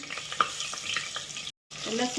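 Garlic sizzles and crackles steadily in hot oil in a pan, a close, continuous frying hiss with a few louder pops, broken by a brief gap of silence before the sizzling resumes.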